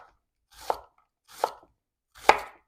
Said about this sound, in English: Look at how these knives just cut so beautifully